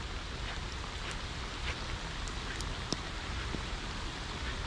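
Steady rain falls on a river during a fishing session, a dense, even hiss with scattered drop ticks, close and continuous with no talk.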